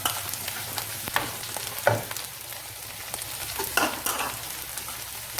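Mixed vegetables, including spring onions, garlic and carrots, stirred in oil in a hot pan, giving a steady close sizzle broken by scraping stirs and a few louder clattering moments, with no one talking.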